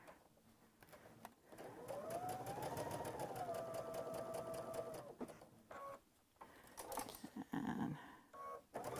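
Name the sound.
embroidery sewing machine stitching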